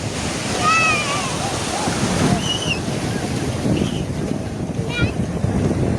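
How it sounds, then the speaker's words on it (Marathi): A boat passes on open water amid wind noise and surf, the engine and hull wash steady throughout while voices call out over it. "बोट गेली पळय."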